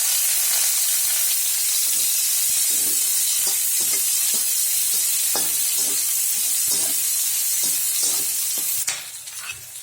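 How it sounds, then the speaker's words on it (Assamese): Onions hiss and sizzle in hot oil with bay leaves and five-spice seeds, stirred with a spatula in steady scraping strokes. Close, continuous frying with no voices, ending in a brief clatter. "এইবাৰ মই পিঁয়াজখিনি দি দিম ইয়াত।"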